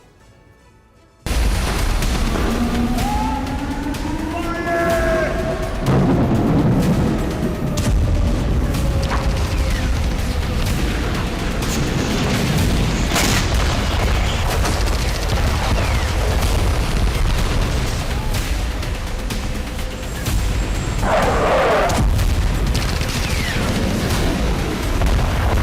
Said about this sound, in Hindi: यूक्रेन की जमीन से भी बड़े धमाके